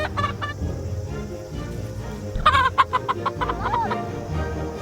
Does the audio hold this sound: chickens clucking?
yes